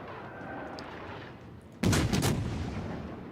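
A single heavy boom from the 203 mm guns of the cruiser Atago firing armour-piercing shells in World of Warships, breaking abruptly over a low ambient rumble and trailing off into a rolling echo.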